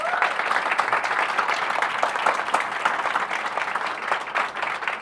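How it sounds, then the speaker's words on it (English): An audience at an International Women's Day event in London breaks into continuous, dense applause with steady clapping and no pauses. "Round of applause."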